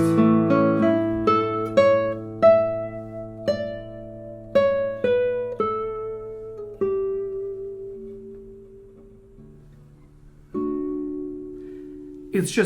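Plucked nylon-string guitar notes ring out, a few quick chords and single notes that decay slowly, trailing into sparse, soft picking near the end.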